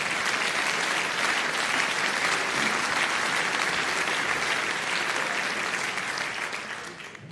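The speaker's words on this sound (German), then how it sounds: "ich will das nicht unterbrechen, wenn ihr klatscht" Steady, dense applause from a live audience at a Nockherberg Fastenrede, loud and sustained throughout before tapering slightly at the end.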